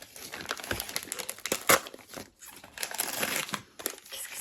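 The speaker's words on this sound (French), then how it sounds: "c'est toujours délicat d'ouvrir ces cadeaux." Birthday presents being unwrapped, with gift wrap paper crinkling and rustling continuously up close, including one sharper crackle partway through.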